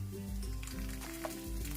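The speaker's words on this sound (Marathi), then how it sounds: "आता हे गरम तेल आहेत ना, हे थोडं थोडं आपले मसाल्यात घालायचं आणि मसाला छान तळून घ्यायचा" Hot oil with fried fenugreek seeds is poured a little at a time into a mango pickle spice mix, giving a steady close sizzle with some stirring and squishing over a low hum.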